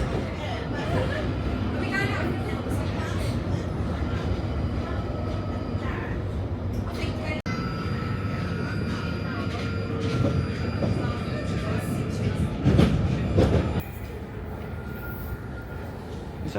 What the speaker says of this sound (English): I'm just trying to get a train coming in. It's coming in really slow.